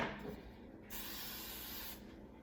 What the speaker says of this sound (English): Give one good spray over the whole thing